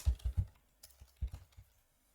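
Keys on a computer keyboard clack in short bursts of close, crisp taps, a quick cluster at the start and a few more scattered strokes fading toward the end, with no talking.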